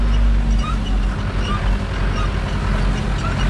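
Heard from inside the cab, a Zetor 7340 Turbo tractor drives while hauling haylage bales: a loud, steady low engine drone with constant rumble and no pauses.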